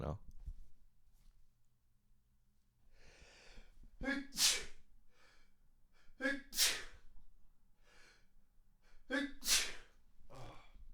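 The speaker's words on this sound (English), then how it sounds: "Gotta sneeze." Three sharp sneezes come at intervals, each led by a breathy intake, close and loud amid quiet breathing.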